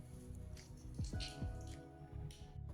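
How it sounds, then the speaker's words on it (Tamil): Juice squeezed by hand from a cut lemon makes faint, close wet squishing and a few soft drips, with brief squelches about a second in. "இப்போ ஜூஸ் புழிஞ்சிக்கலாம்"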